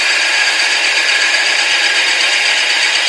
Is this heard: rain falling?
no